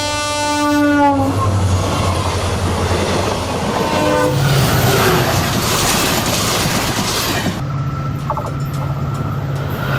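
Electric train on the Madurai–Bodi line during a trial run at 140 km/h, passing close and loud with a sustained horn blast, a heavy rushing roar and rhythmic rail clatter, then a second horn note near the end.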